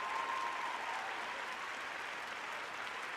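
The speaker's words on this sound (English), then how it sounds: "for that, you get that round of applause" A studio audience gives a sustained round of applause, a dense steady wash of clapping that holds at an even level for about three seconds with no voices over it.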